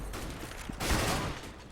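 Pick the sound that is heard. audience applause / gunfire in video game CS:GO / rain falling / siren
gunfire in video game CS:GO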